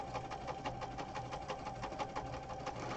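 A sewing machine puts a few stitches into folded ribbon, a close, steady mechanical hum with rapid pulsing needle beats throughout, without any talking.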